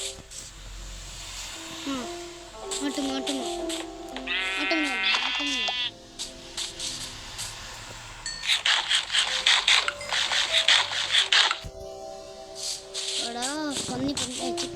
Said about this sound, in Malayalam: ആട്ടമ്മേ പോവല്ലേ, ആട്ടമ്മേ ചാകാറായി നിൽക്കും.